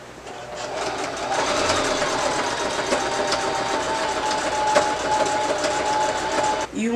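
Sewing machine stitching a wig track onto a cap, a fast steady mechanical whir of the needle running continuously for several seconds, close and clear with no talking.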